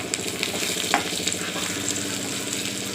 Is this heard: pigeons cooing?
no